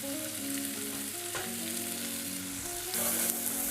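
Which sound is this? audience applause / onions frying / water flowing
onions frying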